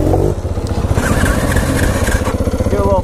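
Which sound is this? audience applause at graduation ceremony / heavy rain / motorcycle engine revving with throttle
motorcycle engine revving with throttle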